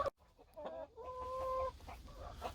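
Two hens squabble among free-ranging native Korean chickens, giving quick clucks and a drawn-out squawk that rise over a noisy yard; nearby and fairly loud, with no talking.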